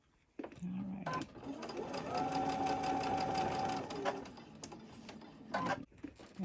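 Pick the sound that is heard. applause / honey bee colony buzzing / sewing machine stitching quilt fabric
sewing machine stitching quilt fabric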